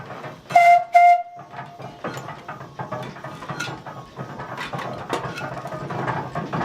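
Heavy machinery clanks and ratchets rhythmically, with a couple of sharp whistle-like toots near the start, mechanical knocking continuing throughout, from a wood-fired 1908 Dolbeer steam logging donkey engine.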